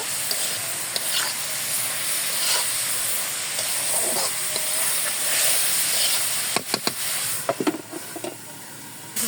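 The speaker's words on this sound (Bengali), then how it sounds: "সেই জন্য আমি এখানে পেঁয়াজ কুচি এবং কাঁচামরিচ ফালি দিয়ে দিয়েছি। এখন এটা এখন ভালো করে ভেজে নিব।" Chopped onion and sliced green chilies frying in oil in a pan, a loud continuous sizzle and hiss, with stirring scrapes and clatter toward the end.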